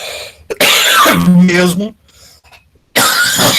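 A person coughs a few times in a classroom on the first day of lessons, sharp close bursts mixed in with the speaker's ongoing talk.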